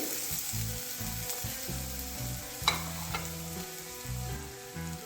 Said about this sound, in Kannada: ನೀರುಳ್ಳಿ ಕೆಂಪಗಾಗುವವರೆಗೆ ನಾವು ಫ್ರೈ ಮಾಡ್ಕೊಳ್ಳೋಣ